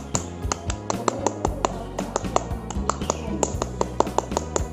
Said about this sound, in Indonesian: kita tepuk pramuka dulu ya. 2 kali tepuk pramuka.